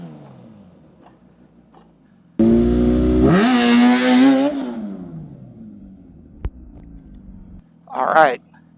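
A Gen 3 Suzuki Hayabusa launches hard on concrete, the engine surging loud and close in a sustained revving pull for about two seconds, then falling away as the bike moves off. A short chirp follows near the end.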